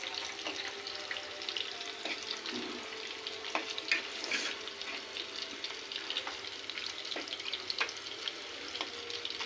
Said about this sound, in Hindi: ये देख लें आपके सामने ये फ्राई हो रहा है